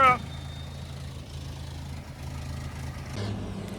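An old truck engine idles with a steady, low, even rumble that holds throughout, and a faint voice may be present in the background.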